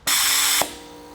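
A VNT turbo actuator from a 1.6 HDi turbo, running a test on a TurboClinic tester, gives a loud, close whirring hiss for about half a second. A brief bump follows, then it drops to a softer steady tail.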